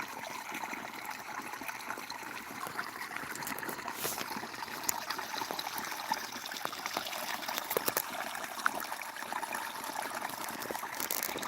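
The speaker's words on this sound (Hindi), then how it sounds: "पानी चलाते हैं, चलो पानी डालना भी देख लेते हैं" Water runs steadily from a pipe outdoors, a continuous rushing and trickling hiss with small splashes throughout, fairly close and without talk.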